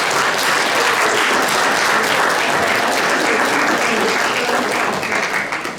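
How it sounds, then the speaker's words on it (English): Sustained audience applause at a women's forum, loud and dense throughout, tapering slightly at the very end with no talk over it. "another round of applause to Shirley"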